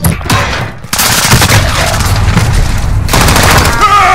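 A first-person shooter game fires loudly and continuously for about four seconds, a dense rattle of shots with heavy booming impacts that stops briefly and then resumes, with no voices over it.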